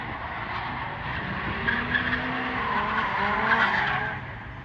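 Nissan S15 drift car with an SR20 engine skidding during drift practice, a sustained tire squeal over a revving engine, loud and steady for several seconds with engine pitch shifting as the car slides.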